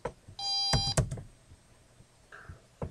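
A burst of shrill alarm beeping from radiation-monitor software (Radiation Alert Observer USB), harsh and tonal, cut by loud clicks and thumps, followed by a brief fainter tone and more clicks.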